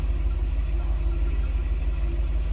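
A 2022 Jeep Grand Wagoneer's 6.4 liter V8 runs at a steady idle, a deep, even low rumble close by with no voices over it.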